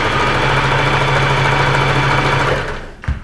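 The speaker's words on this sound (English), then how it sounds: "you're just going to sew using a straight stitch" A home sewing machine runs a straight stitch through shirt fabric, a steady loud motorized whir that continues evenly for a few seconds, then slows and stops near the end with a brief clunk.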